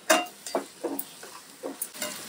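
Vegetables including carrot and tomato stirred in a pan over high gas for soya chilli, a short run of five or six distinct scraping stirs over a faint sizzle, close and without talk.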